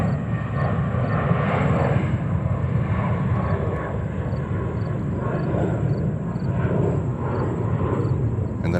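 A jet airliner, a Sun Country Boeing 737-800, taxis toward a runway at New York's JFK airport. Its engines give a continuous, fairly distant roar with a faint high whine above it, steady throughout with no voices.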